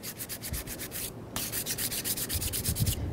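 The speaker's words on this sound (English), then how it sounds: "use a sanding block just to get any nicks off and smooth it right out." A sanding block rubs rhythmically across the throttle body surface of a 1998-2002 Honda Accord, giving steady, close, scratchy back-and-forth strokes with no talk.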